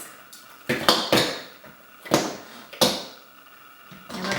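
Frozen homemade baby food cubes knock free from flexible silicone trays, making about five sharp, hollow clacks and thumps spaced irregularly, close up with quiet pauses between them.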